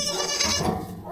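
Young goats bleat in a short, wavering cry at close range, alone with no talk over it.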